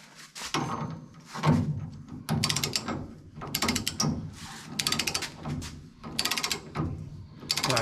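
Ratchet wrench with a 15/16 socket tightening a bolt while installing QA1 front and rear suspension, heard as bursts of rapid clicking ratchet strokes with brief pauses between them, close and fairly loud.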